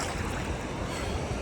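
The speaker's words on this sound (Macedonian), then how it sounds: "Инаку ова е Атлантски океан е" Atlantic Ocean waves washing on the shore, a steady broadband rush and wash heard close and fairly loud, with wind buffeting the microphone and no voices.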